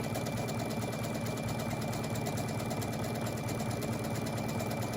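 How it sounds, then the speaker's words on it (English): A sewing machine runs steadily, stitching the neckline of a Vogue 1835 dress with a continuous close mechanical whir and rapid needle rhythm, alone without speech. "now we have sewn the neckline"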